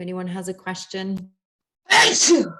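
A single loud, sharp sneeze bursts out after a short pause, following a stretch of someone talking.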